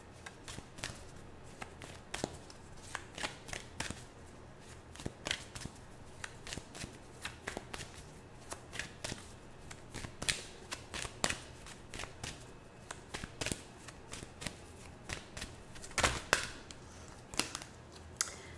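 Tarot cards being shuffled, close and steady, giving a continuous run of crisp riffling snaps and flicks with little pause.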